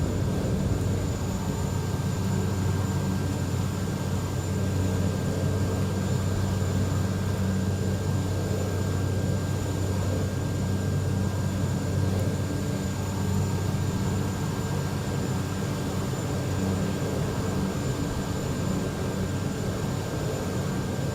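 An airliner cabin in Microsoft Flight Simulator drones with a steady, unchanging engine roar and faint high tonal whine as the plane descends toward the runway, no voices over it.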